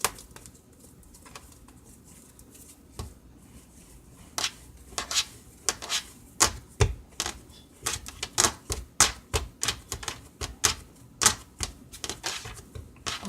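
Ghanaian sugar bread dough kneaded by hand, a soft run of rhythmic slaps and pats that starts sparse and builds into a steady, fairly close pounding cadence with no talking.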